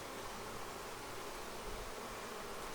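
Honeybees buzzing inside a Flow Hive with a laying worker problem, a continuous dense hum of many insects close by, steady and unbroken with no voices.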